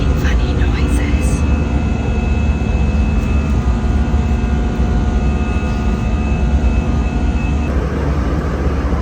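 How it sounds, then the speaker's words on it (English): Airliner cabin engine drone, steady and loud with a constant low rumble and a thin whining tone running throughout, shifting slightly near the end, while a voice talks briefly underneath. "This plane is making funny noises."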